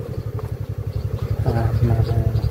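A motorcycle engine runs close by with a steady low pulsing throb, rising a little as it moves along a rough stretch of the NH10 highway in Nepal, with people talking over it.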